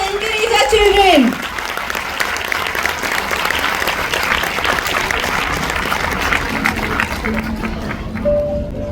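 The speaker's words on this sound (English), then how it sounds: "A huge round of applause to encourage our children." Audience applause at a school annual function, loud and sustained through most of the stretch after a brief burst of voices at the start, with some speech and calls mixed into the clapping.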